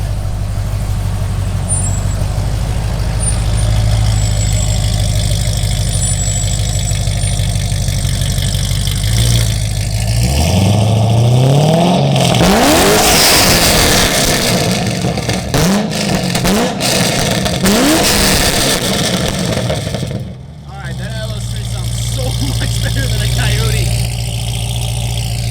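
A Grand Sport car engine rumbles at a steady idle, then is revved in several rising and falling bursts before dropping back to idle, loud and close, with people talking over it.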